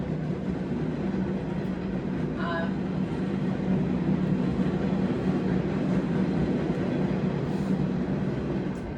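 A passing train makes a loud, continuous low rumble and roar, steady and close for the whole stretch.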